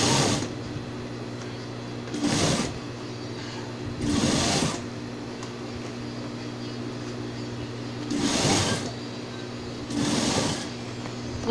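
A home sewing machine stitches fabric for a simple drawer organizer, running in five short, even bursts separated by quieter pauses, with a steady motor hum underneath throughout.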